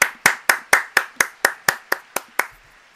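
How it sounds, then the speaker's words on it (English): Eleven crisp, evenly spaced hand claps in a steady rhythm, close and distinct, with no talking, fading slightly toward the end. "Applause for the cast."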